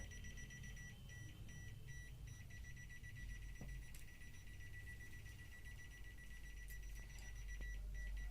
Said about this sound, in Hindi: ये बीप की आवाज़ आने लगी, यानी इसके अंदर वोल्टेज है।